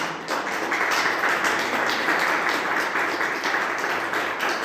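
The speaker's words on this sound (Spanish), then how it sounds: "Un fuerte aplauso a nuestro Señor Jesucristo." Church congregation applauding in a Spanish-language service, a dense, steady wash of many hands clapping that carries on evenly for several seconds with little else heard.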